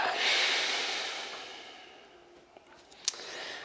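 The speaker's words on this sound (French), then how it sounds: "On inspire par le nez et on expire par le nez" Slow breathing through the nose during a guided relaxation: one long, soft airy exhale that fades away, then a quieter inhale and a brief sharp sniff near the end, close and alone.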